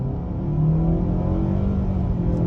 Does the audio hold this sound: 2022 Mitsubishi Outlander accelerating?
yes